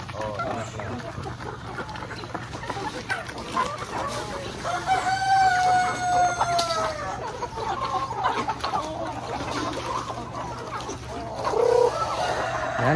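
Chickens on a Philippine poultry farm with laying hens and a range area cluck steadily while a rooster crows a long clear call in the middle and another sounds near the end, with people talking in the background throughout.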